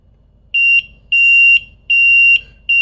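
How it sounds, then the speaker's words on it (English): A SEAFLO high water bilge alarm sounds four loud, piercing electronic beeps in an even on-off rhythm, each lasting about half a second, close by over a quiet background. "And there goes the alarm."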